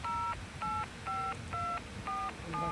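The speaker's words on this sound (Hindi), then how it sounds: "ओके अभी मैं पुलिस को फ़ोन कर देता हूँ।" Phone keypad dialing tones in a video game, six clean, evenly spaced DTMF beeps in quick succession, loud and alone over a faint background.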